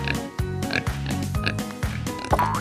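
A cartoon pig in a children's colors lesson oinks repeatedly in quick, loud, close grunts, several snorts in a row over light background music.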